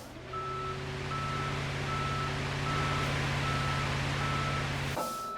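A flatbed tow truck backs up in the game Police Simulator, its reversing alarm beeping at a steady regular pace over a loud low engine rumble, then cutting off near the end.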